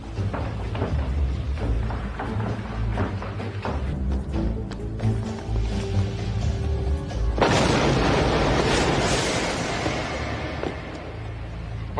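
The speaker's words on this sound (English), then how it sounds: "What's that explosion?" A deep boom from a science-fiction TV series, set against a low rumbling action soundtrack, followed by a louder, broad burst of blast noise that rolls on for several seconds.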